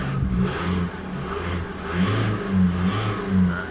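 Volkswagen 2.0 TDI PD diesel engine, warmed up and running rough and smoky, revved several times in quick succession, a steady close low drone rising and falling in pulses with no voices.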